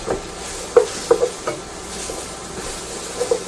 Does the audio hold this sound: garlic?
yes